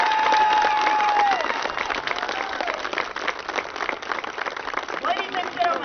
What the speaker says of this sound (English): give a big round of applause to your teams